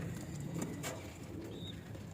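Kalinga breeding pairs of pigeons in a home loft coo softly, a brief murmur against steady background noise.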